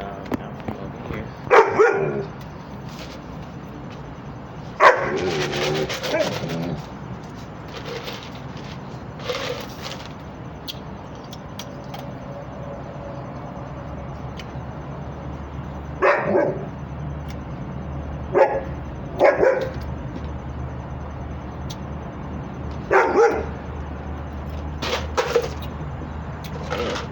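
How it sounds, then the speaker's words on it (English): A dog barks indoors in short bursts spread through the stretch, sharp and fairly close, with quieter rustling and movement between the barks. "I wish you would get this dog out from over here."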